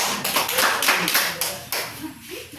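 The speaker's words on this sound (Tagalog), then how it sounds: "Bigyan po natin ng palakpak ang unang pangkat." A Grade 3 class claps for the first group after its song, a quick run of fairly close hand claps in an uneven rhythm, with a voice talking over part of it.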